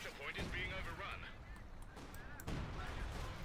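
Centaur anti-aircraft tank autocannon fire in Company of Heroes 2, a battle of Wehrmacht against British forces, rattling in bursts amid explosions and battle noise beneath a commentator's steady talk.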